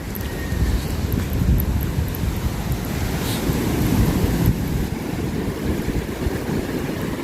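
Continuous roar of sea waves breaking at high tide, with steady wind buffeting the microphone throughout; no voices.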